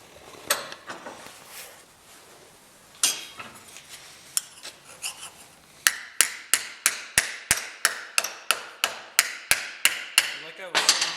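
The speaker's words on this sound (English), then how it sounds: "do the rest of it with a body hammer and a dolly." A body hammer strikes sheet metal held against a dolly while shaping a running board, first a few scattered taps, then a fast, steady run of sharp, close metallic blows, with no one speaking.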